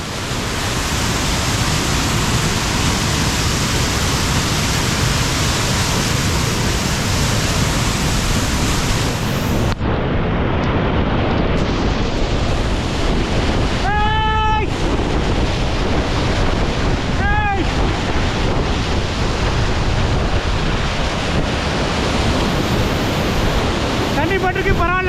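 Water rushing down the Kallar rock waterfall in a forest, a loud, continuous roar filling the whole scene, with brief whistle-like tones breaking through near the middle.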